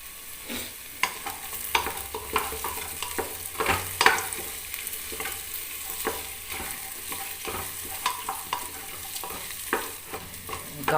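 Bottle gourd pieces stirred and frying in a pan over low flame, a steady sizzle broken by repeated scraping stirs at an uneven rhythm, close and clear.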